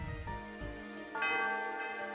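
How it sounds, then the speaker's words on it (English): A bell tolls at Celestial Tower in a Pokemon video game, one bright ringing strike that blooms into a long, shimmering sustained tone, heard alone after a soft low rumble. "You ring the bell. How does our bell sound?"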